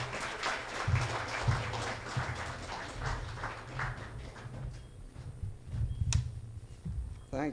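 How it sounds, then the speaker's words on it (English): Audience applause at a formal building handover ceremony honouring a professor, a steady patter of many hands clapping with a low murmur of voices underneath, swelling briefly again near the end. "A big round of applause for him"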